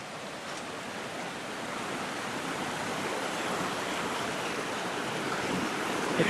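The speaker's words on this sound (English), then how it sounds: "So after a 45-degree hike, here we are down at the river." A river in Colombia rushes in a steady broadband flow, close and constant, with wind buffeting the microphone and the roar slightly swelling toward the end.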